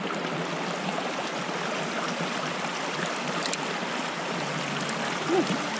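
A backcountry creek in the Popo Agie Wilderness flows in a steady, close hiss throughout, with no voices over the water.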